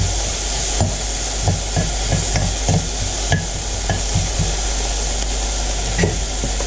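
Onions sauté in a pan under a steady close sizzle, with spatula taps and scrapes recurring every second or so.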